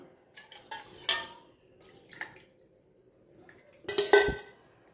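Homemade jeera soda mixture poured through a strainer, a few clinks of metal utensils and vessels with light liquid trickles, spaced out between quiet pauses and ending in a louder clatter.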